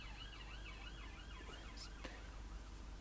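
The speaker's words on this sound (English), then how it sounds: "Police car going by." A police car siren wails in a rising and falling pattern as it passes at a distance on a Manchester street, faint against steady background noise, with a brief clatter near the end.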